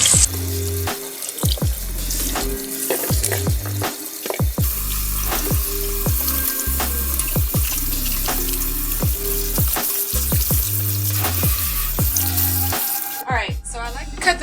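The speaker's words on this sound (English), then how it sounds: "I'm going to go ahead and give them a good washing anyway" Vegetables, including potatoes, being washed under a running kitchen tap, with steady splashing water and intermittent hollow clunks and rattles as they are handled in the sink, close and continuous.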